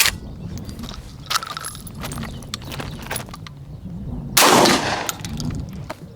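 A Benelli M3 dual-mode shotgun being broken in and troubleshot sounds with sharp mechanical clacks and rattles, then a loud, close burst of a blast near the end.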